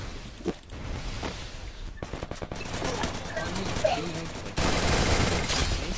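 Bursts of gunfire from a Free Fire game match crackle in rapid fusillades, ending in a dense sustained volley near the close.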